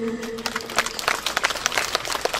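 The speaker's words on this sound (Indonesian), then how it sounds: "Mari kami berikan tepuk tangan dulu" Brief burst of applause from attendees at a church office inauguration and consecration ceremony, steady clapping of moderate loudness throughout.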